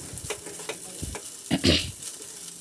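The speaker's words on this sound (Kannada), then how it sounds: "ಅದನ್ನು ಮಸಾಲೆ ಜೊತೆ ಚೆನ್ನಾಗಿ ಮಿಕ್ಸ್ ಮಾಡ್ಕೊಳ್ಳೋಣ" Avalakki, flattened rice, is stirred with masala in a pan, giving a few close, soft scraping strokes over a faint sizzle, with no voices.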